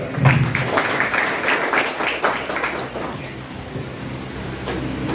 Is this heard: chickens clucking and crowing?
no